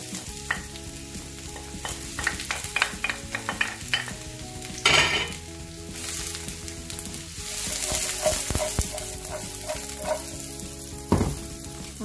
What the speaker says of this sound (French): je vais commencer par poêler mes oignons